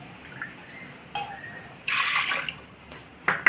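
Lentils (dal) are rinsed with water in a bowl, producing quiet drips and short splashy swishes, with a louder slosh in the middle and another near the end, close and intimate.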